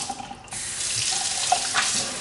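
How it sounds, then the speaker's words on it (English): Strong water stream from a faucet pouring into a twin stainless steel sink, a loud steady rushing splash that swells after a brief softer start. "twin stainless steel sink. Water pressure in this building is terrific."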